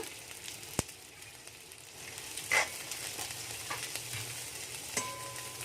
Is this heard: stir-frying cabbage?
yes